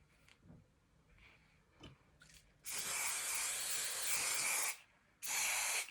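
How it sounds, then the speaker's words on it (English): Hairspray from an aerosol can misted onto hair during an at-home blow dry of a bob, a long steady hiss of about two seconds, then a short pause and a second burst, close up, with faint handling noises before. "So a good bit of hairspray."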